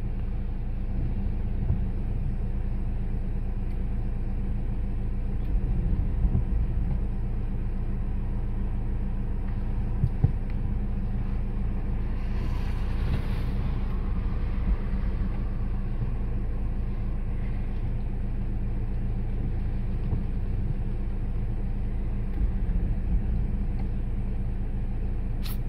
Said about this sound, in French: Encore une voiture.